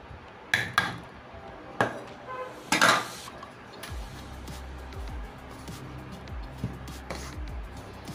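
A spoon clinks and scrapes in a bowl while whole wheat flour, sugar, milk and salt are mixed for buns, with a few sharp knocks early on, then softer, steadier stirring close by.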